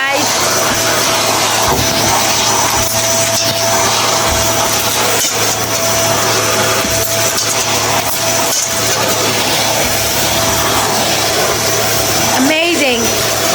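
A Henry vacuum cleaner runs steadily close by while cleaning a guest room, giving a loud continuous motor drone with suction roar throughout, and brief voices can be heard over it.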